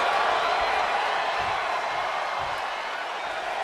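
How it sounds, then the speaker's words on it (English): Video game arena crowd in WWE 2K24 wrestling gameplay, a steady dense roar of cheering that stays loud and unbroken, with commentary voices faintly mixed in. "The sound of this crowd is deafening, and he's asking for more"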